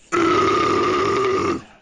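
A single long, loud burp lasting over a second, droning with a steady tone before trailing off, heard alone without talk.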